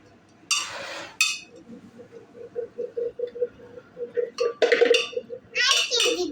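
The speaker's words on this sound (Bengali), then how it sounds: "এখন চামচ দিয়ে মিক্স করো।" A spoon stirring food in a bowl makes a run of light, rhythmic metallic clinks close by, while a child and an adult talk before and after the stirring.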